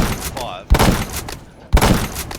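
Two loud, sharp shots from an 8mm bullet-by-bullet-reload sniper rifle ring out in a video game about a second apart, each with a booming decay, with a faint mechanical whir between them.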